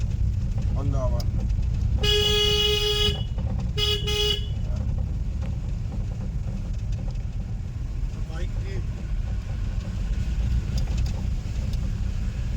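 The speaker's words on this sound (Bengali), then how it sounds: "হর্ন দাও আবার।" A car's horn sounds one long, loud blast and then a shorter honk on a busy main road during a driving lesson, over continuous traffic and engine rumble, with people talking.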